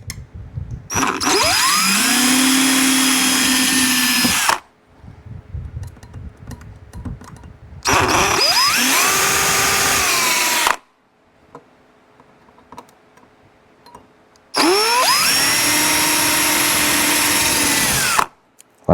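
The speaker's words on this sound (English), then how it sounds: "go ahead and drill the rest of your pilot holes here" A power drill whines up and runs in three separate bursts of a few seconds each, with quiet handling noises between them.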